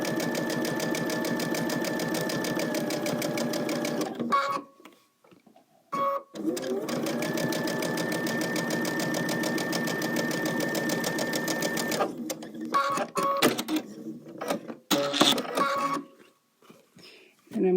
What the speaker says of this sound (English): I'm going to sew the other side.